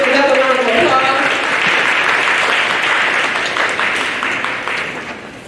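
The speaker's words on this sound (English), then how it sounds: "Can we give another round of applause?" Audience applause fills a board meeting room, dense and sustained from the start with a voice briefly over it, then gradually tapering near the end.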